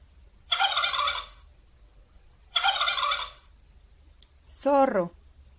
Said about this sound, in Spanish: pavo